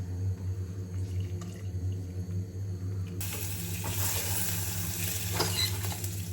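Cottage cheese waffle batter is whisked in a bowl: a soft, wet stirring swish that grows louder and busier partway through, over a steady low background hum.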